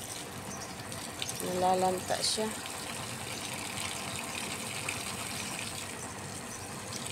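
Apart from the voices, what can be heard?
watering garden plants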